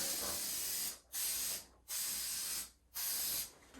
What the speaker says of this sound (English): So first thing I'm going to do, I'm going to spray the perimeter.